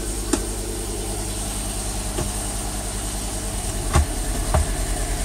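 A VW-group car with a 4-speed automatic transmission idles steadily, its low engine hum running evenly close by, with a few faint clicks and knocks over the top.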